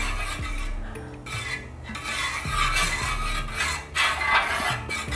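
Carrot semiya payasam is stirred in a pot, a steady scraping and rubbing of the spoon against the metal with occasional clinks, close and continuous with no talking.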